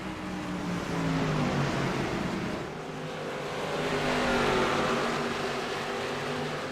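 Race cars roar past the start-finish line at Richmond during a NextGen series race, engines droning loud and continuous with rising and falling pitch as the pack goes by.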